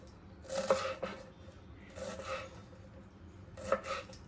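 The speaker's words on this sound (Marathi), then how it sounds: "अशी बारीक चिरून घ्यायचे आहेत" Knife finely chopping fresh fenugreek leaves on a board, a few soft, close cuts in short clusters with quiet gaps between them.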